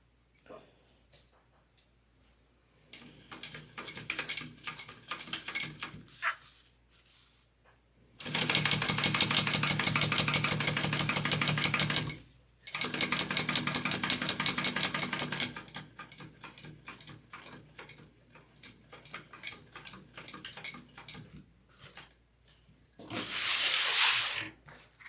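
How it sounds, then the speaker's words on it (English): A sewing machine stitches the center line of a tote bag in loud sustained runs, with stops and starts, shorter bursts, and quiet handling between them. "I'm going to sew down that center line first."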